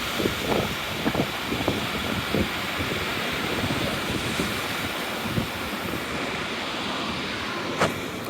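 Wind gusts and choppy waves along Torquay seafront on a rainy day, a steady broadband roar of surf and wind buffeting with irregular splashes, fairly loud and continuous throughout.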